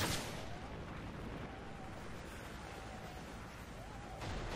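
A SAM turret fires on an enemy Cobra helicopter in Modern Warfare 3 multiplayer, a dense, continuous roar of gunfire and blasts that stays fairly faint and muffled throughout.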